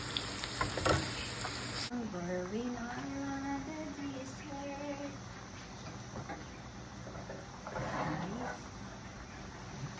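Chinese sausage frying in a pan, a soft continuous sizzle with faint stirring, recorded at a distance under a low voice speaking.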